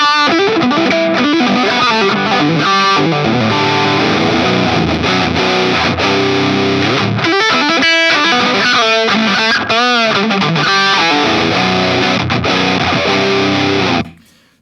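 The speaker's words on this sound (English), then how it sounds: "All right, let's hear the vintage." A vintage ProCo Rat distortion pedal drives a Les Paul guitar through a Marshall amp, producing a long, loud, saturated passage of distorted chords and single-note riffs with choppy palm-muted stops, ending abruptly after about fourteen seconds.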